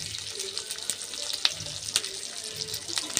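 Capsicum and onion petals fry lightly in a pan for chilli chicken, giving a steady close sizzle with faint crackles and a few soft stirring clicks, no voices.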